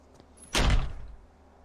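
A single loud, close door thud from a door opening in the DreadOut horror video game, a sharp heavy impact that fades quickly into quiet.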